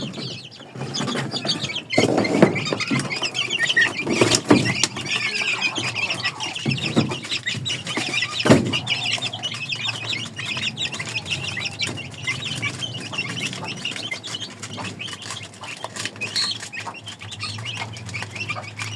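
Backyard chickens and their chicks cluck and cheep steadily at close range, soft peeps layered over lower hen clucks with a few louder bursts, no voices heard.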